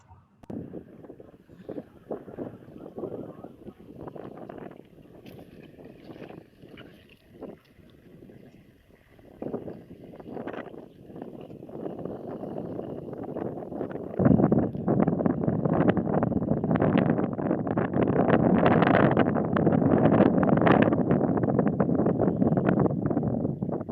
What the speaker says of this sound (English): it's quite windy in the background